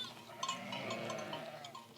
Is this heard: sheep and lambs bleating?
yes